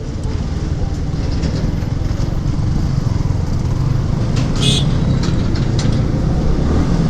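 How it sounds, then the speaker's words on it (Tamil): A vehicle from Salem approaches and rolls by on a road. A loud, continuous rumble of engine and tyres fills the scene, with brief higher rattles midway. "சேலத்துலேருந்து வருதுப்பா வண்டி"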